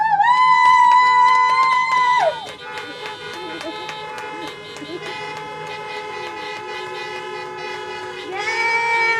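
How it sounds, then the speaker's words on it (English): Car horns honk at an outdoor drive-by high school graduation celebration, with long, loud overlapping tones that sound first as one strong blast and then as a steady chorus of many horns. "can you please honk your horns for me?"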